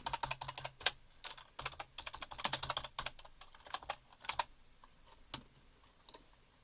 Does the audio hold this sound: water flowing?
no